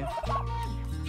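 A three-month-old turkey gobbles once in a loud, close, rolling burst that trails into a sustained low warble, with no voices over it.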